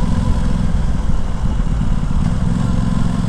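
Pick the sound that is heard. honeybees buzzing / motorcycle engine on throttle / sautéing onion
motorcycle engine on throttle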